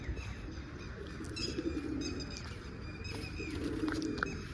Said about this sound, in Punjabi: ਬਾਕੀ ਲੱਗੇ ਵੇ ਕਬੂਤਰ ਦਾਣੇ ਖਾਣ